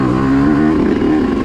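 A Yamaha YZ125 two-stroke dirt bike ridden along a trail, its engine droning steadily at close range with a slight rise in pitch partway through, no voices over it.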